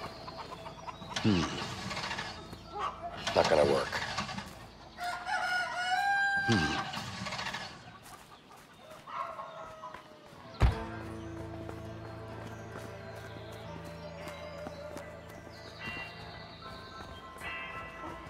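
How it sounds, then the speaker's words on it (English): Chicken clucks and crows in the A Way Out co-op game, a flurry of loud bird calls over the first half mixed with someone speaking, followed by a sharp clatter and steady game ambience. "A flying chicken!"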